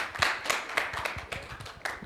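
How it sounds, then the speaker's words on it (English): An audience claps at a panel event launching a 2022 mobile industry transparency report, welcoming the next speaker; brief, scattered claps at moderate volume, with no one talking. "Let's welcome him with a round of applause"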